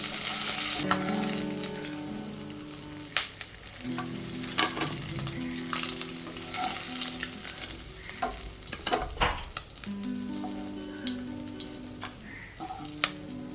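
Fish frying in hot oil, a loud continuous sizzle and crackle close by with occasional scrapes and clinks of a utensil, no voices.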